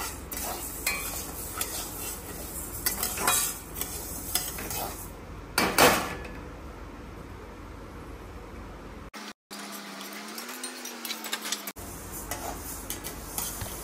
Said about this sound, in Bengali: আমি জাস্ট মুগ ডালটা কড়াইয়ের মধ্যে নেড়ে নেব তেল ছাড়াই।